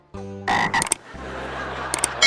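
A frog croaks in loud, close, buzzy bursts that trail off into a low throaty rattle, with no one speaking over it.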